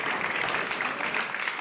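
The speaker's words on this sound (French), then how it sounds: "On peut les applaudir très fort." Crowd applause for runners finishing the Course de la Bonette 2015 mountain race, a steady dense patter of many clapping hands at moderate distance with no gaps.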